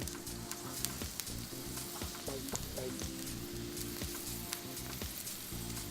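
Garlic and onion sauté in a very hot pan, giving a steady, dense sizzle that holds close and even throughout, with a few faint clinks in the background and no one speaking over it.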